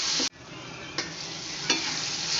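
Tomatoes and onions sautéing in a pan with turmeric, a steady bright sizzle broken by a sudden cut and a few spatula strokes.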